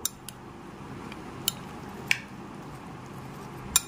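Soaked sabudana (sago pearls) stirred together in a bowl for a sweet dessert, with a few sparse, light clicks and taps over a quiet, steady background and no talking.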